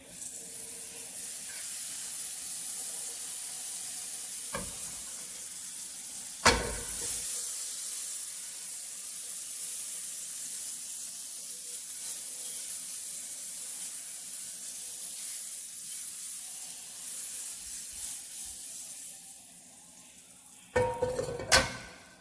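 Butter in a hot pot over a low flame for banana pancakes, a soft steady hiss and sizzle running throughout, broken by a few sharp metallic clinks of a utensil against the pot near the start and end.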